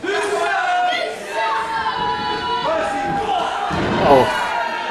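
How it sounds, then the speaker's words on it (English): Crowd at a wrestling match booing and shouting in protest, a sustained roar of many voices with some thumps, while a commentator talks over it. "the crowd are aggrieved, and they've every right to be aggrieved, actually"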